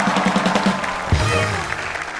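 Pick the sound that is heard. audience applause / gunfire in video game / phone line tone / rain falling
audience applause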